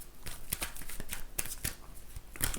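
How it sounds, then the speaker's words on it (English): Tarot cards being shuffled by hand, a close run of soft riffling and slapping bursts at an uneven rhythm. "now I'm just going to shuffle these tarot cards"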